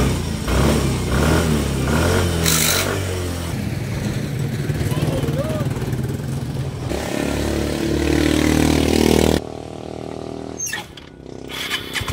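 A Yamaha Mio i 125 scooter engine, its throttle body freshly cleaned and TPS recalibrated, revs hard and close for about nine seconds, with a voice underneath, then cuts off abruptly into quieter clatter.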